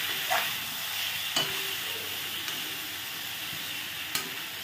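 Flat beans, eggplant and potato frying in a kadai give a constant bright hiss of oil, punctuated by a few sharp spatula clicks and scrapes, close and without voices.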